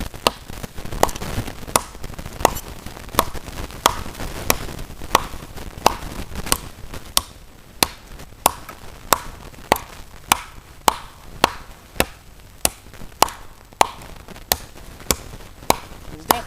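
Steady, rhythmic chopping of wood with a BK9 knife, sharp impacts repeating about once a second, close and loud, with no talking.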